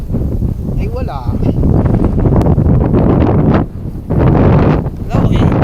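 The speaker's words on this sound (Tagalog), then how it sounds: "ay malakas ang hangin" Strong wind buffets the microphone outdoors in loud, uneven gusts with brief lulls, roaring and rumbling in the low end, while faint voices and a short whistle-like sound come through in places.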